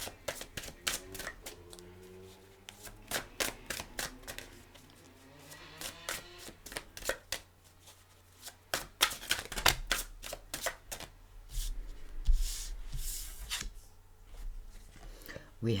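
Tarot cards are shuffled and cut by hand, giving rapid bursts of crisp riffling clicks and flaps in irregular clusters, close and loud, with a person talking at times.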